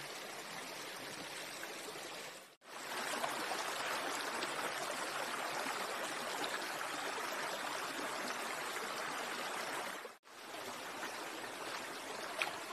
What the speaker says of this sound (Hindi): ये बीच बीच में पहाड़ में से पानी रिस रहा है